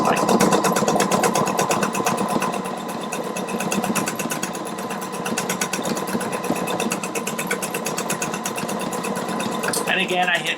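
A Pfaff Quilt Expression 720 sewing machine stitches out a bow pattern with a steady rapid mechanical chatter that runs loud and close throughout.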